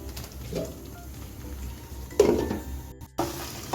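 Aloo posto, potatoes in poppy seed paste, stirred in a pan with a soft low sizzle underneath, scraping spoon strokes and a few louder clanks against the pan, including one sharp knock partway through.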